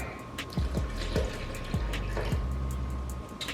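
Water is poured from a bottle into a blender while making turkey stuffing, giving a series of hollow glugs and splashes at an irregular rhythm before settling into a steady trickle, heard close up without talk.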